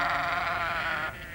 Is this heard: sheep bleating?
yes